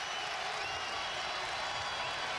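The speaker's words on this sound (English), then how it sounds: "Crowd responds here at Dunkin' Donuts Center" Basketball crowd at the Dunkin' Donuts Center cheering and applauding, a dense, steady roar of many voices filling the arena without pause.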